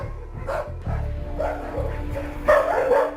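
A dog that resists wearing a leash gives short yips and whimpering barks, close and fairly loud, in uneven bursts with brief pauses between them.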